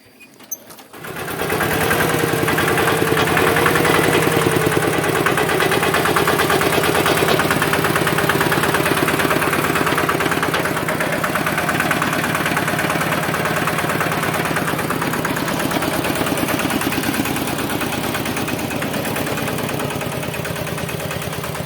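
A modified farm tractor, a homemade rig built in Nan, Thailand, idles steadily with a loud, continuous engine rumble after a brief quiet start, running on with no talk over it.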